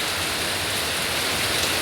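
Heavy rain pours down in a steady, dense hiss that fills the whole span, loud and close, with no voices over it.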